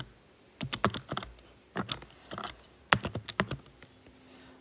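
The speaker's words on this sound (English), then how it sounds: "if I type that into my calculator now" Keys tapped on a handheld calculator, close and fairly quiet, in three quick bursts of clicks separated by short pauses, with no voices.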